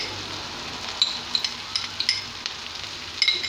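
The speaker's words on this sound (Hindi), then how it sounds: "इसे हम दो तीन मिनट के लिए अच्छी तरह से भूनेंगे।" Onion frying in a pan with green chilli, salt and ginger-garlic paste for a makhana matar curry: a soft, steady sizzle broken by small sharp pops and crackles, close and with no talk.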